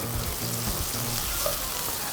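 Bay leaves, star anise, cloves and green cardamom frying in hot cooking oil for biryani rice, a steady close sizzle and crackle with a few soft stirring sounds.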